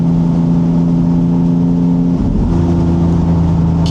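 A hybrid Porsche Boxster sports car engine pulls hard under acceleration, a loud, close, continuous mid-pitched drone with a brief dip and gear change partway through, and no talk over it.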